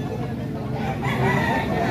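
Roosters and hens at a gamefowl sale in San Jose del Monte, Bulacan, give off crowing and clucking. The calls are mixed into a dense, busy background of crowd babble.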